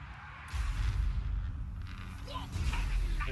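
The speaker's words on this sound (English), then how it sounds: "Warp cannon." A warp cannon firing in the video game Total War Warhammer II, a deep booming blast with a rumbling tail that swells after a quieter start and carries through the whole moment.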